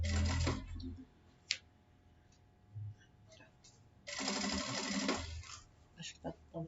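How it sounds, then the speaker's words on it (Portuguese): A sewing machine backstitches fabric for a book cover, its motor buzzing in two loud bursts of rapid stitching separated by quieter pauses with faint clicks, close by. "Retrocesso no começo, retrocesso no final, tá?"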